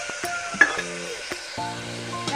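Onions cook in a pan with ginger and garlic, giving a soft continuous sizzle with a few light stirring scrapes, close and fairly quiet, with no speech.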